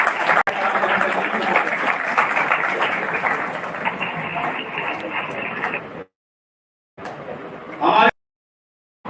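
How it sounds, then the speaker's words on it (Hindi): Sustained crowd applause at a school award ceremony greets the chief guest, loud and steady for about six seconds, then stops before a short second burst of clapping. "मैं उनसे आग्रह करता हूँ भैया बहन उनका ताली से स्वागत कर"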